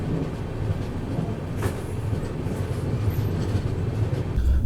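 Gitanjali Superfast Express train running after leaving Badnera Junction, heard from inside the carriage as a steady, loud rumble with continuous low wheel-and-rail noise throughout.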